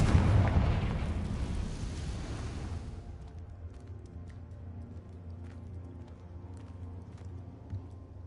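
A Confringo blasting spell from Hogwarts Legacy erupts in a loud explosive roar for about three seconds, then fades into a low rumbling tail with faint clicks.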